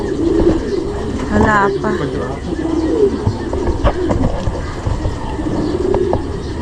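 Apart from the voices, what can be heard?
racing pigeons cooing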